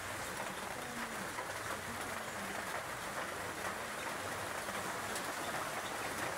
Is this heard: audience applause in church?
no